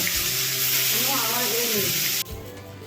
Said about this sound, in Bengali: মাছগুলো তেলের মধ্যে দিয়ে ভেজে নেব